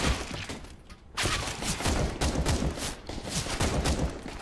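Rapid bursts of Glock pistol fire in the CS:GO game, a loud cluster of sharp shots with brief gaps and a short pause near the start, with no voices.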